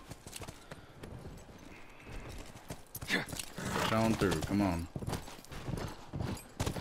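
Rhythmic clip-clop of horse hooves at a walk in the video game The Last of Us, mixed with people talking over them and a short burst of louder sound midway.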